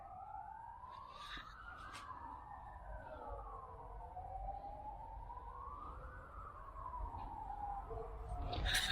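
Emergency vehicle siren from a nearby ambulance or fire station by a main road, a wailing tone rising and falling in slow sweeps, moderately distant and swelling slightly louder toward the end over low traffic rumble.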